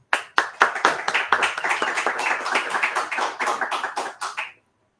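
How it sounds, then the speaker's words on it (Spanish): A poetry slam audience at a national final in Cali claps for an arriving performer: sharp individual claps build quickly into dense, close applause that holds steady for about four seconds, then stops abruptly. "reciban con un fuerte aplauso a Alejandro"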